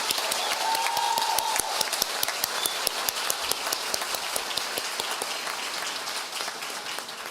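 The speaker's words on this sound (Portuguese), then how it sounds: "Por favor, uma salva de palmas." Crowd clapping at a teachers' strike rally, a dense, fairly loud patter of many hands with sharper claps poking out, continuing steadily over several seconds.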